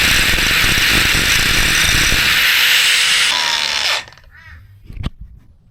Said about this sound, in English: edges of this nut with my angle grinder, make it more of a square